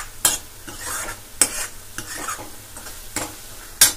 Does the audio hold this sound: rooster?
no